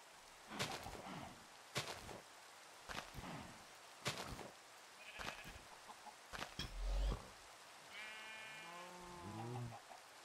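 Sheep bleating in a video game, several harmonic bleats toward the end after a run of sharp clicks and thuds, with a clucking chicken-like call mixed in; moderately loud and close, with no talking.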